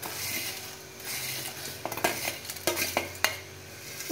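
Maggi noodles dropped into a pan over a medium-low flame and stirred, with soft sizzling under scraping and clinking of a utensil against the pan, the taps growing sharper in the second half.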